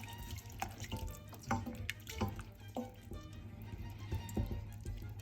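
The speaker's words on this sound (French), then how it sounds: "on mouille déjà avec le bouillon de volaille" Chicken broth is poured into a pot with a quiet, steady liquid trickle and scattered drips and splashes, faint and close, with no talking.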